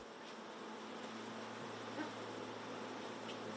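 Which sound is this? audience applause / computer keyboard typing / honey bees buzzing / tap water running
honey bees buzzing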